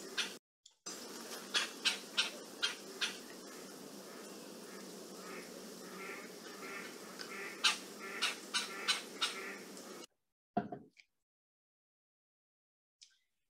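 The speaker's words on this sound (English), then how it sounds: "moving on to the red-bellied woodpecker. I'm going to again play their call" A red-bellied woodpecker calls repeatedly over steady background noise, a series of rolling, trilled notes at a moderate distance, then the calls stop.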